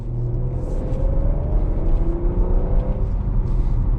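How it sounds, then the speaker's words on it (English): A 2022 Porsche Macan S engine accelerating in normal mode, a close, steady, smooth rumble with a rising whir as it gains speed, with no talking. "let's do a bit of an acceleration in"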